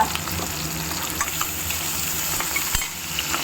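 Mustard seeds sizzle and crackle in hot oil during tempering, a steady close frying hiss with small scattered pops throughout.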